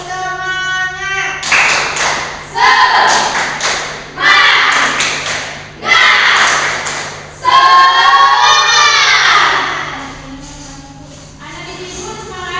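Schoolchildren in a classroom perform a rhythmic group clap routine in repeated loud bursts separated by short pauses, with voices chanting along between and over the claps.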